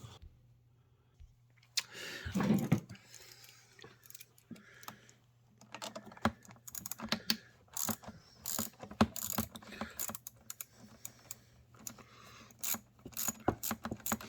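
Tools work at a bolt under the carburetor pan of a Harbor Freight Predator 2000 generator, making close, irregular metallic clicks, ratcheting and rattling after a quiet start, over a faint low hum.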